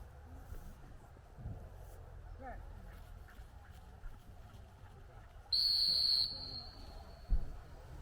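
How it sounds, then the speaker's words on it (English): A dog handler's whistle command during an AKC master hunter test sounds as one loud, shrill, sustained blast lasting under a second, set against open outdoor ambience with faint voices and rustling. "The dog obeys all of the handler's whistle commands"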